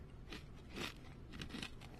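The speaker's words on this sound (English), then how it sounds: "Pop-Tarts Crunchy Poppers prove that even something small can pack a big, powerful crunch." Crisp, quiet crunching of small Pop-Tarts Crunchy Poppers snack bites, a few distinct bursts spaced across two seconds with no talking.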